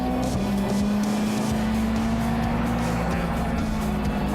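Race cars driven hard around a track, engines roaring loud and close with a steady sustained drone and rising pitch, as though pushing through a corner.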